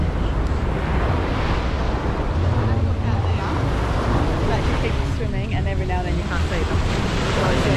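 Strong wind batters the microphone while surf rolls onto the beach at Cairns in high winds, a loud, constant roar of gusts and breaking water, with a voice faintly heard underneath.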